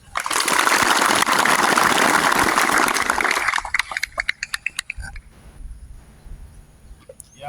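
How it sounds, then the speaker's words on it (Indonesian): Applause from students and staff at a Monday flag ceremony at a senior high school, a dense burst of clapping for about three and a half seconds that thins into scattered claps and fades. "Mari kita memberikan aplaus."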